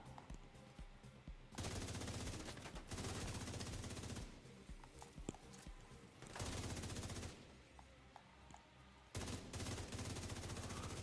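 Bursts of automatic gunfire in The Division 2, several sustained loud volleys broken by short pauses.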